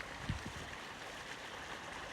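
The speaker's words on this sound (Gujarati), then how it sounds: "આમથી પાણી આવવાનું ચાલુ થઈ ગયું" Water begins flowing on a rural farm plot, a soft steady gush like a small stream, faint and continuous with a couple of low bumps near the start.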